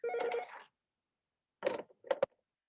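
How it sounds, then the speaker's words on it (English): A mobile phone rings in short electronic bursts: one burst, a pause, then two or three more quick chirps, moderately loud and close, with no speech over it. "my phone is ringing"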